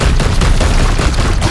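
Dense, loud gunfire from the Warhammer 40,000: Daemonhunters video game, a continuous rattling volley of overlapping shots filling the whole moment with no talk.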